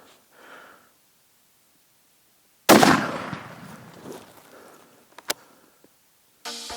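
A single loud rifle shot fired at a whitetail buck during a deer hunt rings out sharply, then decays into a long outdoor echo, with faint breathing before it and small knocks afterward.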